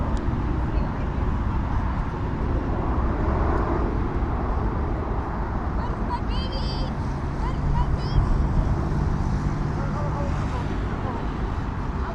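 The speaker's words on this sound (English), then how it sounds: "we've got our 737 MAX heading to Casablanca in Morocco, Royal Air Morocco Airlines" A Royal Air Maroc Boeing 737 MAX departs from London Heathrow: a loud, dense, continuous jet roar fills the whole clip from a distance, with a brief higher whine rising partway through.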